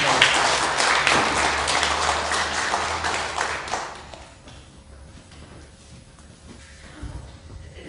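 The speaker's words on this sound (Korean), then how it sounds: "우리 한번 우리 경례의 박수 한번 쳐주시기 바랍니다." A Korean Sunday church congregation claps together, a dense, fairly loud round of applause for about four seconds that then drops away to quiet room tone.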